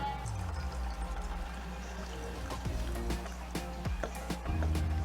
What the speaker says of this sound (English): Now let's carefully add the water.